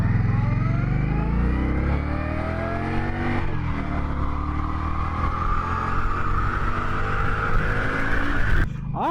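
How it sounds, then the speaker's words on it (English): A 2020 Indian Scout Bobber Sixty motorcycle accelerates hard and loud, its engine note climbing steadily through the gears over about nine seconds, with no talk. "let's see how good it can pull"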